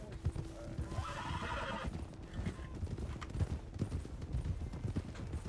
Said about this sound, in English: Very inconspicuous, the rumbling of her hooves.